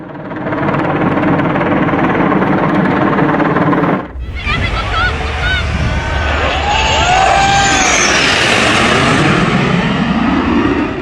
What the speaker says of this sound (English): And by big guns, I of course mean a helicopter.